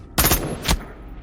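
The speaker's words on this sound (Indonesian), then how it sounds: "Baku tembak kembali terjadi" Two sharp bursts of gunfire in the action film Kandahar, a long loud blast followed by a shorter one, then a lingering rumble and quiet.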